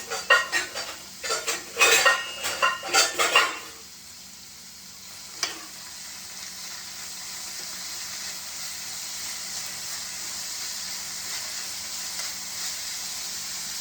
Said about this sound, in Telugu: ఉల్లిపాయలు, తర్వాత మెంతం కూర, కొత్తిమీర, పుదీనా ఇవి కూడా వేసేసుకొని ఒక్కసారి మనము కలుపుకుందాం